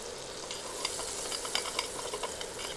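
Butter sizzles steadily at medium-low heat in a pan for chicken saltimbocca, with a spoon scraping and stirring through it in scattered soft clicks.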